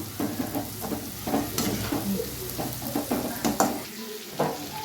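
Intestine curry with tomato fries and sizzles in a pan while a spoon stirs it, scraping and clinking against the metal in irregular strokes over a continuous loud sizzle.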